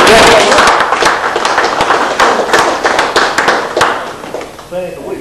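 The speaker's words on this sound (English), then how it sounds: "I'd like to give you a round of applause and ask everybody to give you a round of applause." A small group gives a round of applause at a 1993 fire brigade training gathering: a burst of irregular, close claps that fades out toward the end, with voices nearby.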